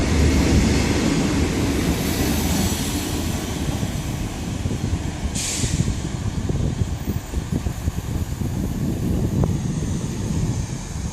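Long freight train hauling about 1,200 tons passing Bristol Parkway station, a steady broadband rumble and roar of wagons rolling by, continuous and moderately loud with no voices.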